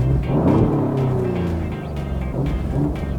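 A remapped Alfa Romeo Giulia Quadrifoglio in race mode pulls away hard in first gear on an airport runway. A loud, deep engine roar with rising harmonic sweeps fills the whole stretch, steady and close.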